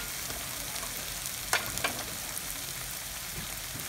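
Prawns frying in tomato masala for a prawn curry, a steady close sizzle with a couple of brief scraping stirs near the middle and no talking.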